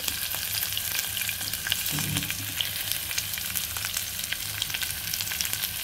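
Onions and green chillies fry in hot oil with curry leaves for a ridge gourd and dry prawn curry, making a loud, continuous dense sizzle that holds steady throughout.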